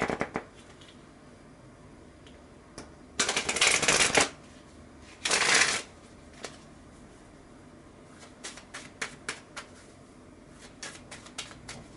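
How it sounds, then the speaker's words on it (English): Lenormand fortune-telling cards are shuffled in two brisk riffling bursts, followed by a scatter of soft taps and card flicks, close and quiet with no voices. "Now let me shuffle the Lenormands"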